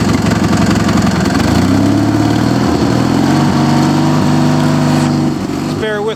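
A Gilson S-Twin 18 HP lawn tractor engine runs loud and close, its pitch climbing and dipping as it is revved, with a short higher whine near the end.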